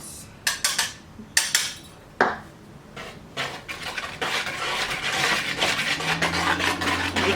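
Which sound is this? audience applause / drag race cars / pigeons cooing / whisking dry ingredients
whisking dry ingredients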